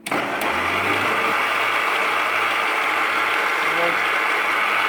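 An electric mixer whirs steadily and loudly after starting up, beating vegan egg-white substitute with a little sugar for chocolate mousse, a continuous close motor drone with no break.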